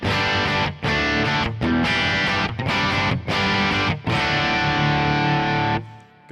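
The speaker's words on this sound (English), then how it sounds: "And then going to the Cranked Deluxe Reverb" Loud, saturated chords on an electric guitar played through a Kemper Cranked Deluxe Reverb amp profile, strummed in several sustained blocks with short gaps, then a last chord fading out.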